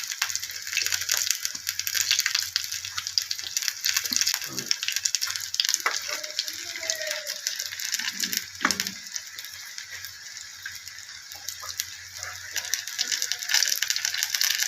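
Flower fritters (bok phul bora) fry in boiling oil, giving a continuous bright crackle and sizzle with scattered sharp pops, steady and close throughout.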